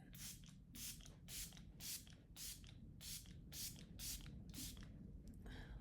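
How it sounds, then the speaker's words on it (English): Hydro Milk setting spray mister spritzing in about ten short, even bursts at a steady rhythm, close and crisp over a low background hum. "So I'm just going to go back into my Hydro Milk setting spray. And it's got a beautiful mister on it."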